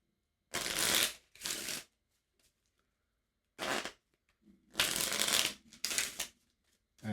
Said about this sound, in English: The remaining cards are shuffled.